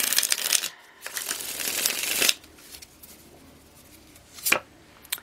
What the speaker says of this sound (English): One more shuffle in love and personal life.